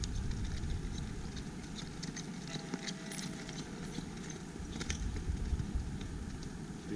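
Gaited horse walking, with soft, irregular hoofbeats blended into a dense, steady background rumble of wind and movement, without any voices.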